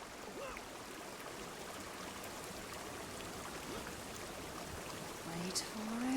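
Rushing water from a waterfall in the Guild Wars 2 video game, a faint, steady hiss of falling water with small game effect tones rising near the end.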